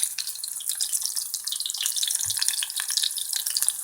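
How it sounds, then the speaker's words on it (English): Slices of fish fry in a pan with a steady, bright hiss and crackle of sizzling oil, close and continuous, with an occasional low knock. "I assume the fish is fried through, so I'm going to remove it."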